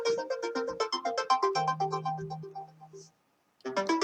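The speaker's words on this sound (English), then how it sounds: "my phone is ringing." A melodic phone ringtone plays a bright tune of repeating notes, pauses briefly in silence, then starts up again.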